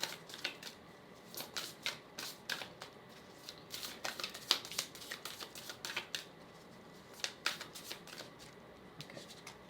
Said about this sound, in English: I'm picking the cards out.